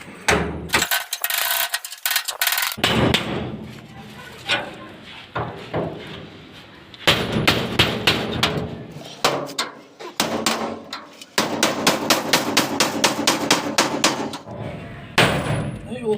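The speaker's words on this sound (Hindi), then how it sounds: "अब हम इसको छेनी से थोड़े से, छेनी हथौड़े से इसको उतारने की कोशिश करते हैं।" Hammer blows on a chisel prying loose a fitting from a door, heard as bursts of sharp, rapid metallic knocks in quick rhythmic runs separated by pauses, with faint talk between strikes.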